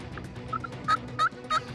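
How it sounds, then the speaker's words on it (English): Wild turkeys gobble during a hunt, several short gobbling calls at a moderate distance over a faint outdoor background. "Heard them gobble, they're coming this way."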